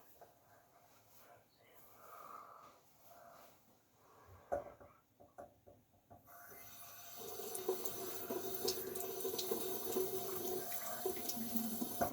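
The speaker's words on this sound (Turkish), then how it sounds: "Yüzümü yıkıyorum ben" Tap water running into a sink during face washing, starting quiet and soft and then becoming a loud, steady close splashing stream, with a person talking faintly over the first half.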